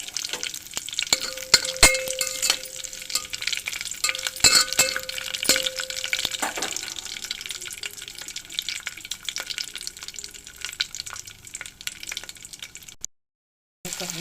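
Cashews and curry leaves frying in a pan of oil crackle in a dense, continuous close sizzle with occasional clinks of a utensil and stirring scrapes, cutting to silence near the end.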